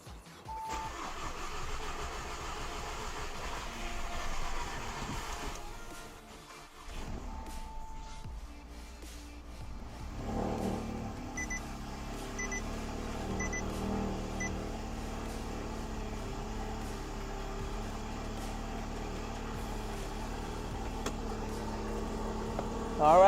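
A car engine starting after a carbon clean and oil change, cranking and then settling into a steady idle hum that runs on through the clip, with some background clatter.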